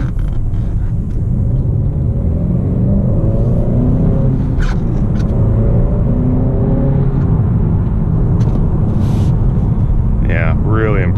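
A 2018 Honda Accord Sport with the 2.0T engine and six-speed manual pulls up a hill, its steady engine drone and road rumble filling the cabin continuously beneath talk from people inside.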